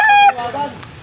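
A Tornado-breed fighting rooster from Mount Banahaw gives a loud, close, brief crow-like call that breaks into a few softer clucks.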